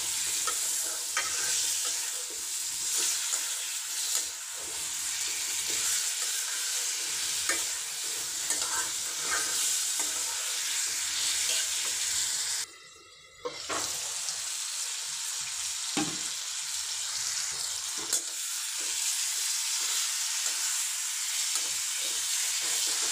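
Potatoes sauté with spices in a pan, giving a continuous close sizzle broken by scraping stirs, with a short pause midway and no voices.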